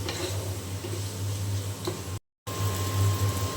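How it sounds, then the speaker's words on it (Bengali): Frozen carrots fry in oil for noodles, giving a steady close sizzle with soft crackles over a low hum and a brief cut to silence partway through. "তেলের সঙ্গে ভেজে নেব।"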